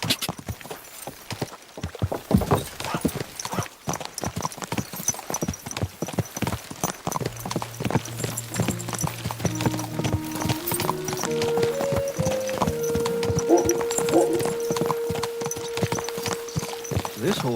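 Steady clip-clop of horse hooves trotting close by in the video game Kingdom Come: Deliverance, with a tonal musical layer rising underneath partway through.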